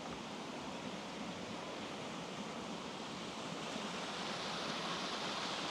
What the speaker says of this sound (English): you could just stand here, relax, listen to the sound of the water